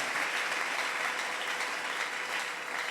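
A church congregation applauds the Lord in steady, dense clapping that keeps on evenly for the whole stretch, with no voice above it.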